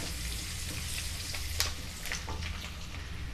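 Finely chopped garlic hits hot butter and cumin seeds for pav bhaji, setting off a dense, continuous frying hiss up close, with a couple of sharper clicks as it is stirred.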